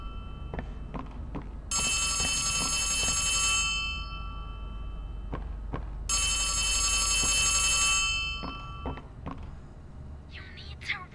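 A telephone rings in the horror video game Poppy Playtime Chapter 3, two long loud bell bursts a few seconds apart, with soft footsteps and thuds between and a voice speaking briefly.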